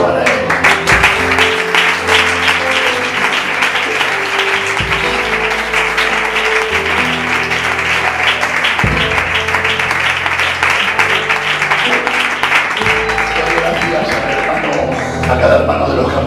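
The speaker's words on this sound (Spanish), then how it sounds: "Ese aplauso para él." Congregation applauding a speaker at a church event, sustained clapping mixed with music and some voices, loud and continuous throughout.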